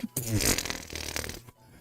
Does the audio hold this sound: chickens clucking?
no